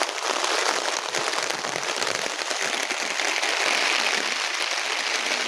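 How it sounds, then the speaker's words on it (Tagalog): Heavy rain pours steadily onto a farm hut in a field, a dense, loud, unbroken hiss of drops hitting the roof and ground with no pauses and no voices. "lakas ng ulan oh"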